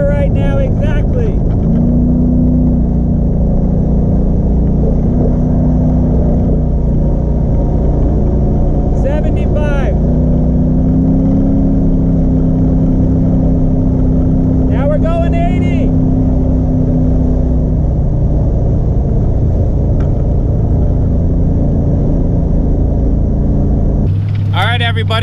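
A car fitted with a TH400 automatic transmission cruising at 65 mph, a steady low engine and road drone running throughout under intermittent talk, with a louder burst near the end.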